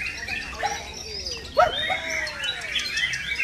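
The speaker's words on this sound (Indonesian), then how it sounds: "murai batu ah" A white-rumped shama sings a varied run of clear whistles and sweeping notes at a bird-singing contest, close and fairly loud, with brief pauses between phrases.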